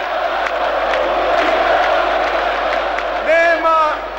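A political rally crowd waiting for Milosevic roars in a steady, dense wash of cheering and shouting, with a louder surge of voices and whoops near the end.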